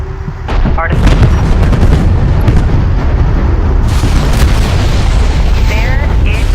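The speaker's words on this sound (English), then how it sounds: "Pull back to a safe distance and initiate detonation." Charges detonate in the real-time strategy game Homeworld: Deserts of Kharak, a loud, sustained roar of booming blasts and rumbling explosions, with radio voices talking over the din.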